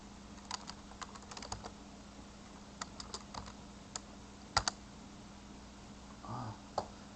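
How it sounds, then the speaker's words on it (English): Sparse clicks of typing on a computer keyboard, fairly quiet and close, come in small irregular clusters over a low background hum, with a faint low murmur near the end. "I am typing everything there so that everybody that is not on the stream can know what's going on."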